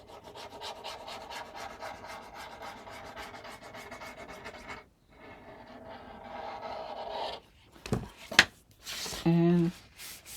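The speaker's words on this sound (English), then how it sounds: "now I'm going to take my bone folder and burnish" A bone folder rubs and burnishes glued paper on a mini album page, a soft, close scraping that carries on steadily before a brief pause, then resumes with a few louder knocks and scrapes at the end.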